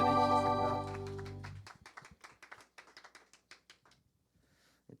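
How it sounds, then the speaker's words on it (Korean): A congregation at a youth church worship service breaks into applause as sustained worship music cuts off. The claps are crisp and scattered, thinning into a few sparse taps before fading to near silence. "주님께 영광의 박수 올려드리겠습니다."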